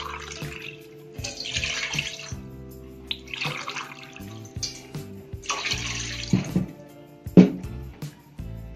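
Water poured from a glass into a pan for sugar syrup while making mawa gulab jamun, a few separate splashing pours with clatter and kitchen handling in between, close and moderately loud.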